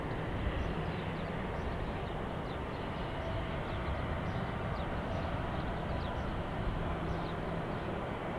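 A JetBlue airliner rolls past at Salt Lake City airport, a steady, broad roar of jet engines holding at moderate loudness throughout with no voices.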